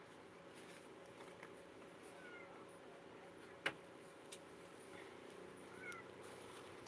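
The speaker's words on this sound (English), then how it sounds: "That's my cat. She wants to come inside." A cat meows from outside wanting to come in, one short clear call standing out from a steady quiet room hum, with a couple of fainter calls later.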